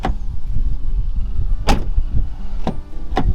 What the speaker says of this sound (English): Very loud door locks, bang bang